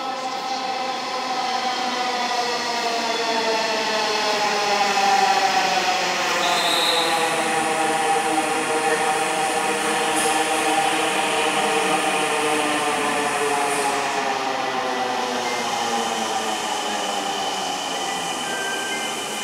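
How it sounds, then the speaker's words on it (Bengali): A Dhaka metro rail train arriving at Mirpur 10 station from Uttara, its rising and falling electric motor whine steady and loud throughout, with a brief chime partway through. "আমরা দেখতে পাচ্ছি মেট্রো রেল আসছে উত্তরা থেকে এবং আমরা মিরপুর 10-এ আছি"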